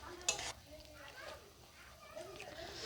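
Pata xaak greens with moong dal fry and are stirred in a pan, a faint soft sizzle with a brief scraping clatter near the start, while a person talks quietly over it.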